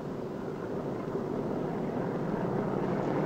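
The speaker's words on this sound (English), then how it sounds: "After you're cleared for takeoff, turn the plane the rest of the way around so that it points down the runway." Four radial piston engines of a B-29 bomber rumble steadily while the aircraft taxis on a runway, a dense, loud and unbroken drone with no voices.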